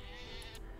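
Sheep bleating in the farming and town-building game Settlement Survival, a short burst of layered in-game bleats over steady ambient game audio, at moderate distance.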